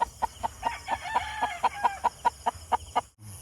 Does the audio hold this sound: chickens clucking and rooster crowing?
yes